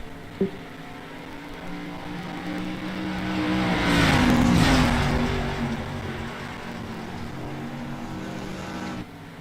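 Race cars rev and drone through a warm-up, engines swelling into a louder, closer pass in the middle before easing back to a steady hum.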